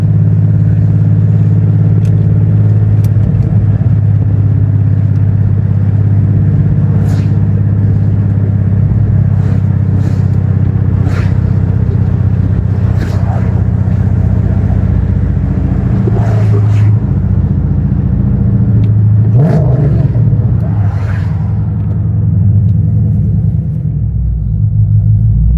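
A Dodge Charger with a 5.7L V8 cruising on the road, a steady loud low engine rumble throughout with slight swells as it accelerates, heard from inside the car.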